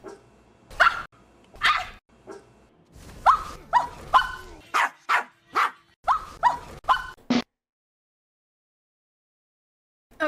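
A human voice imitating dog barks, a rapid series of short, sharp yapping sounds close up, like a small dog, ending abruptly and followed by silence.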